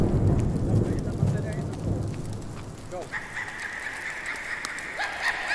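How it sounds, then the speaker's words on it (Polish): Thunderstorm in the horror video game In Silence: a deep thunder rumble over steady rain fades, then a sustained high tonal whine rises above the rain. "O, dobra, jest burza. Jest burza."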